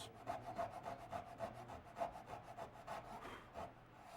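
A handsaw cuts tenons in small mahogany stretcher stock, making quick, steady back-and-forth rasping strokes about five or six per second, close and moderately loud with no talking.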